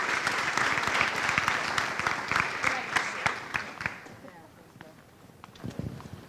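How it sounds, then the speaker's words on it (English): An audience at a garrison update gives a round of applause, dense clapping for about four seconds that thins out into a few scattered claps, with faint voices in the room. "One more round of applause."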